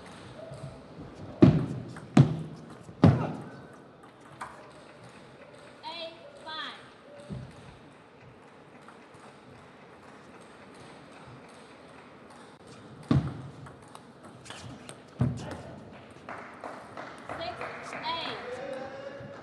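A table tennis rally in a professional match, with a few sharp, close ball strikes in quick succession followed by later scattered hits, under steady French commentary and faint crowd noise.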